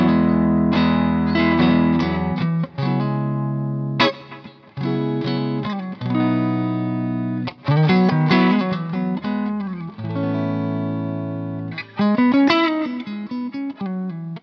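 Electric guitar plays through an amp loaded with a Celestion ceramic Cream speaker, with distorted chords and riffs in loud phrases broken by short pauses, close up and alone with no voices.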